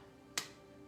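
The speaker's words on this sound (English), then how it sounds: "9, and clap." A single hand clap given as a count during a bouncing and tapping energy exercise, one sharp crisp hit standing alone over quiet room tone.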